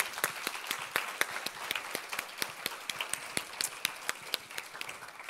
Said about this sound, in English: So applause for all of them.